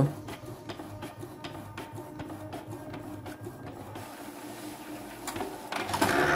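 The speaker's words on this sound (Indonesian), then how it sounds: "sekarang sedang diproses ke printer L210 ya Epson L210" An Epson L210 inkjet printer works through a page with a continuous whirring, rattling mechanism and rapid rhythmic clicks, close and fairly quiet, rising slightly near the end.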